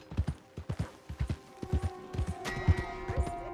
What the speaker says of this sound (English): Hey! My horse! Am I glad to see you?